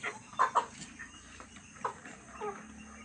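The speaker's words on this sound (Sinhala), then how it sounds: "ඔන්න පැටව ටික දාන්න හදන්නේ එළියට" Hens and their growing chicks on a farm cluck in a few short, separated bursts at close range over a quiet outdoor background, with no talking.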